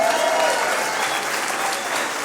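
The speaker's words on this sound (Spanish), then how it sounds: "Demos un aplauso de bienvenida a todos nuestros visitantes que por primera vez están con nosotros." A church congregation at an Easter service breaks into loud, dense applause to welcome visitors, a brief burst of clapping that stays strong for a couple of seconds, with a faint voice briefly audible at the start.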